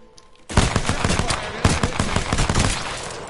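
Rapid automatic gunfire in a shooter video game, a loud, sustained stream of close cracking shots that bursts in after a brief quiet start and keeps hammering without pause.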